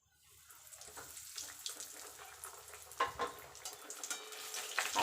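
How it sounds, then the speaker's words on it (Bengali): Chicken cutlets fry in hot oil one by one, giving a steady close sizzle with bursts of crackling and spatter that grow louder as pieces go in, no talking over it. "তেলটা গরম হয়ে গেছে এবার আমি এক এক করে কাটলেটগুলো ভেজে নেবো"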